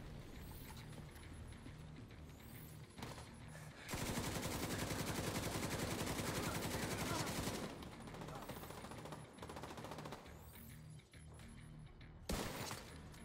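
Gunfire from The Division 2 during the Space Administration HQ mission, a dense burst of rapid shots lasting several seconds with scattered single shots before and after, loud and close in the game mix.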